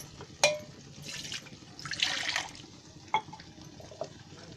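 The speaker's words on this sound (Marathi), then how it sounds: "थोडं पाणी टाकते" Water splashes and trickles into a pan in short bursts, with a few sharp clinks of metal in between, close and moderately quiet.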